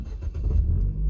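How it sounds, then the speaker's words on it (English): A Ford Fiesta ST engine starts by push button with the clutch pressed, giving a short, low, close rumble that swells slightly as it catches. "And now we need to restart the engine"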